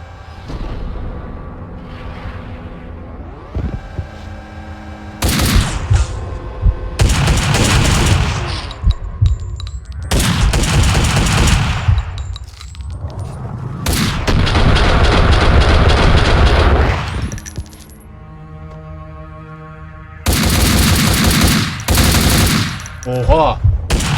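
Rapid automatic gunfire from the video game Max Payne 2 comes in loud, dense bursts broken by short lulls, with game sounds layered underneath.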